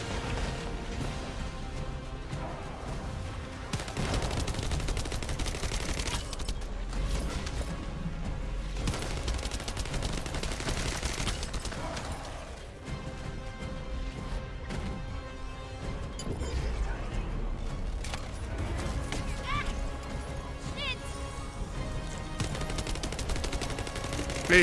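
Continuous gunfire from a weapon in the shooter game The First Descendant, rapid shots rattling almost without pause for over twenty seconds amid dense game effects and background music, with no talking.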